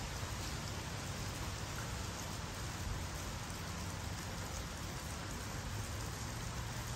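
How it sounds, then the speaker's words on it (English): Light, misty rain falls steadily, a soft, even hiss that stays constant throughout with no voices over it. "I'm being drawn to look at the rain. It's so light over here"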